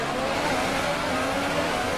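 A race car engine in the F1 2018 video game revs steadily and loudly at the race start, a continuous buzzing drone with no voices over it.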